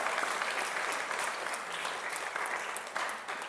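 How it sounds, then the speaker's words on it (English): A crowd at an Earth Day gathering gives Chris another round of applause, a continuous, fairly quiet wash of many hands clapping throughout, with no voices on top. "Another round of applause for Chris"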